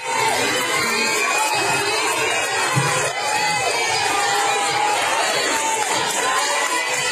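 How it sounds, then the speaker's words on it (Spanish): A packed theatre audience keeps up a loud, unbroken wall of shouting and cheering, many voices overlapping and rising in pitch, steady in level from start to finish. "Y todo el mundo aplaudiendo, y gritando."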